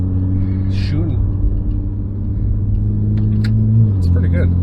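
A 2011 BMW 335i running on the road, with a steady low exhaust drone and rumble heard from inside the car, with people talking over it.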